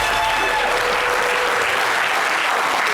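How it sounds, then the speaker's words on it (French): An audience breaks into loud, dense applause for the Gouro region at a gathering, the clapping sustained and uniform for about three seconds. "On applaudit pour toute la zone Gouro"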